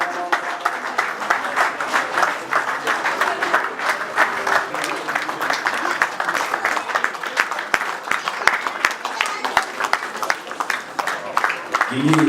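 A crowd at a Cameroon National Day celebration on 20 May applauds continuously, with dense clapping that goes on throughout and a voice talking over it.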